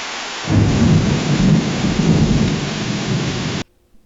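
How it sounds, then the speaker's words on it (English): AI-generated heavy rain and thunder: a dense, loud wash of downpour with deep rumbling thunder starts abruptly after a short pause, then cuts off sharply before the end. "So here is heavy rain and thunder."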